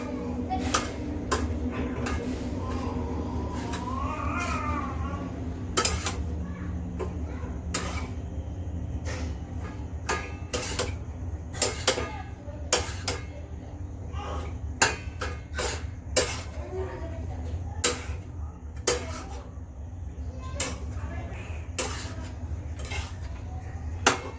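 Repeated metal clanks and scrapes of a spoon against a pan while stirring rice into a tempering, irregular and close, with a voice talking over the stirring.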